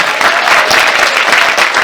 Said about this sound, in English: which we will welcome with rapturous applause